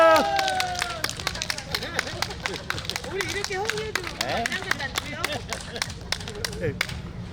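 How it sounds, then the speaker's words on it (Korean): Outdoor audience at a rapeseed flower festival claps for a gayageum byeongchang performer, scattered sharp claps over crowd babble and voices, fairly steady and moderately loud through the whole stretch. "축하 공연을 해주실 이재현 구화인의 큰 박수 부탁드립니다"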